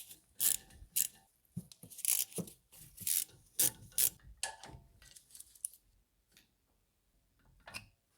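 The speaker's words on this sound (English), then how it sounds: "Now we need to remove those bolts." Bolts on the front brake caliper of a BMW Z4 E89 being loosened with a ratchet wrench, close metallic clicking in bursts, then trailing off into near silence.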